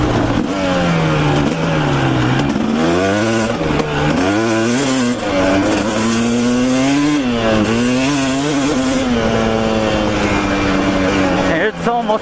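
A motorcycle that had been running hot and losing power revs hard while being ridden, its loud close engine note repeatedly climbing and falling in pitch, with a voice talking over it.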